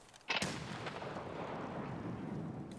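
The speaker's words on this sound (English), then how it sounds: "That's a better grenade." A grenade blasts in the first-person shooter Escape from Tarkov (SPT mod) at a pier, a sharp loud detonation followed by a long rumbling, echoing tail that fills the rest of the moment.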